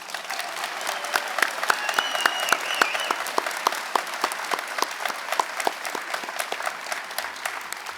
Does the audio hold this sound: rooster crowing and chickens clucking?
no